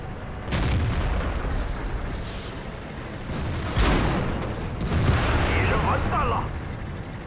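Heavy booming impacts and blasts from tank combat in World of Tanks on the 8.11 test server, a few loud hits a tank takes from a tier 9 tank destroyer, over steady rumbling battle noise.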